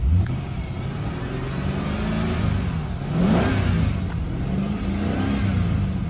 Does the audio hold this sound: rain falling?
no